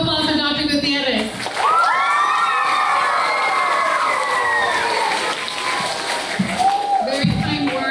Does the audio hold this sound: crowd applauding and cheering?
yes